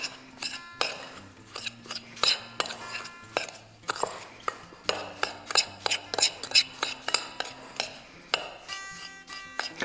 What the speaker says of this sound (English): And stir again. You just want to moisten all the crumbs.